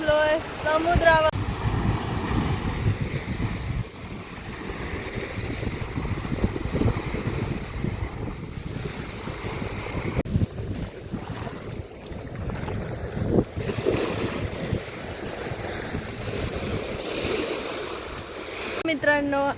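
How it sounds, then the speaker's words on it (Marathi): Sea waves wash onto the shore at Nivati beach on the Konkan coast, a continuous surf rumble heavily buffeted by wind noise on the microphone for the full stretch. "बोलल्याप्रमाणे बघा मी पोहोचलोय समुद्रावर।"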